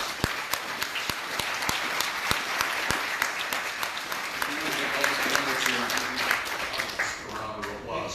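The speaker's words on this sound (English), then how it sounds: "I think we need to give all these candidates a round of applause." Audience applauding candidates at a county attorney and clerk election forum, steady sustained clapping with a few sharp louder claps, filling the room throughout.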